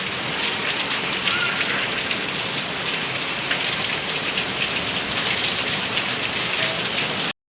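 Heavy, wind-driven rain pours down steadily, a dense, loud hiss of drops drumming on surfaces without pause.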